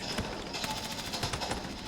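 Rapid gunfire in the Battlefield 6 video game, a dense, continuous burst of loud shots running through the whole short stretch, with no talking.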